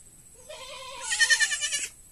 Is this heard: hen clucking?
no